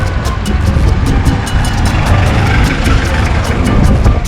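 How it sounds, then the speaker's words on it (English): Classic old Chevrolet cars driving along a busy street in Havana, Cuba, a steady mid-pitched engine rumble with traffic noise throughout and no clear talk. "And here are some more classic cars."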